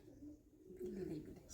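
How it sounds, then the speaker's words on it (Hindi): Domestic pigeons kept at a rural farmstead in Jharkhand coo softly, a brief low murmuring call heard faintly at close range. "इनके घर पर कितने कबूतर हैं"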